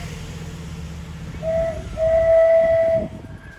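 An IET train pulls into West Ealing station on the Great Western Main Line, its rumble underneath two short, clear horn blasts, the second held for about a second.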